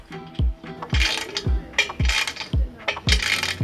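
A 13mm ratchet clicks in quick bursts while tightening hardware on half bar doors during assembly, the pawl ratcheting in repeated short strokes at close range with no talk.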